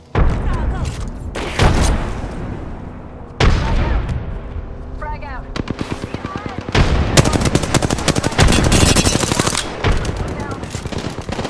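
Rapid gunfire and a frag grenade blast in the battle royale game Apex Legends: dense bursts of automatic fire and booms that grow heavier toward the end, loud and continuous, with a player talking over the action.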